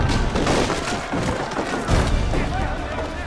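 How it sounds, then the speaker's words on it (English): Black powder barrels explode in Assassin's Creed 3 with dense, crashing, splintering bursts of wood and debris, one booming burst hitting early and another about a second and a half later. "it also gave us an opportunity to include some historical exploding barrels"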